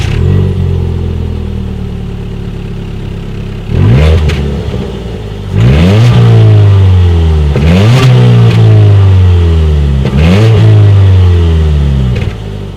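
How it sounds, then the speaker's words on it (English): A 2019 Ford Fiesta with a single exhaust idles, then is revved several times in quick blips, the engine note climbing and falling back each time, loud and close with no talking. "As always, here is that exhaust clip."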